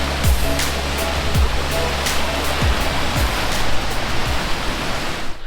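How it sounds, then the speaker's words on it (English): A waterfall in a small valley on the Isle of Skye pours with a steady, full rushing roar that stays loud and constant. "hidden in a little valley here is some waterfalls"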